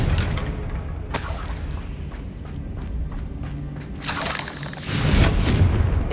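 Confringo explosive spell in the video game Hogwarts Legacy, a series of sharp booms and cracks at irregular intervals, ending in a louder, longer blast near the end, with no voices.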